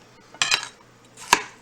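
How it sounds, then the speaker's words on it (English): A knife cuts through bell pepper in two crisp, separate strokes on a board, a short slicing pair followed by a single sharp cut in a quiet kitchen. "I'm just making nice even slices, and these are going to be fairly big slices of pepper."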